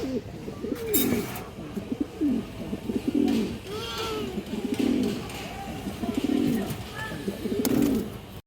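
Two high-quality female pigeons coo in repeated soft, throaty rolls in a morning coop, close by, with faint chirps and background rustling.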